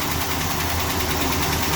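A Mopar engine with noisy, chattering lifters idles nearby in a short, steady, rumbling burst.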